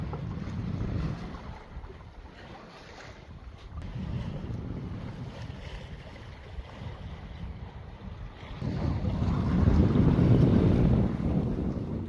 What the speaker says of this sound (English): wind conditions are absolutely phenomenal